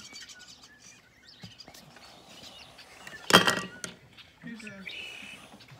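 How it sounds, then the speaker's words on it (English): Red-winged blackbirds chirping and calling in a tree at a distance in spring, a few trilling songs scattered among quiet ambience, with a sharp knock or clatter in the middle. "can you hear the springtime birds, the red-winged blackbirds particularly, up there in the tree?"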